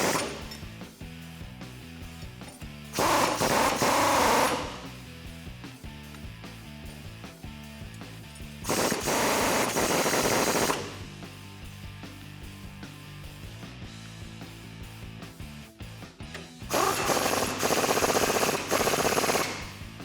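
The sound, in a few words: tightening U-bolt nuts with a 22mm socket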